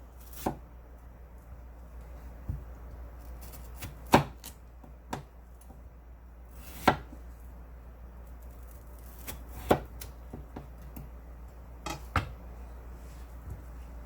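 Several crisp knife cuts land at irregular intervals through a watermelon, each a short sharp crunch over a low steady hum, with no speech.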